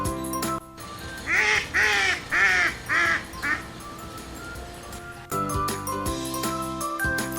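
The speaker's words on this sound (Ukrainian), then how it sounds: "качка крякає. Кря-кря-кря." Several loud quacks in a quick row, like a duck calling, over a backdrop of bright music and other animal-like sounds.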